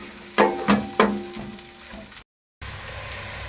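Large round-sliced onions sizzling and frying in a pan for Lahori chikar cholay, with a steady hiss broken by several clattering stirs near the start, then a brief cut and an even sizzle.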